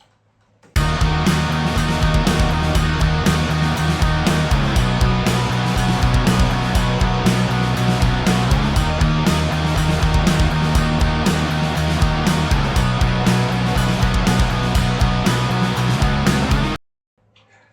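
Two distorted electric guitars panned left and right through a Marty Friedman Tech 21 SansAmp pedal chug a steady punk rock riff with bass and drums, loud and unbroken for about sixteen seconds.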